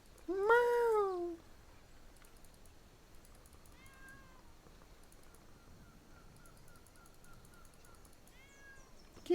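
A single loud, close meow from a house cat named Kitty opens the clip, followed by faint, softer mews in a quiet indoor room with a low steady background hum.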